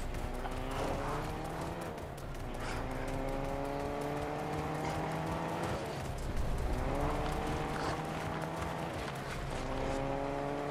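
A car driven in the Fortnite video game, with a steady engine drone that rises and falls in pitch through gear shifts, carrying on without a break under the game's other sounds.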